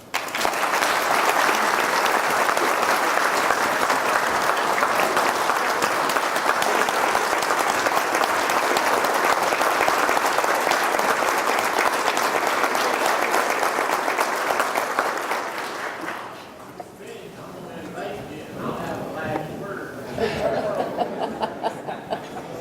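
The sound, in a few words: audience applause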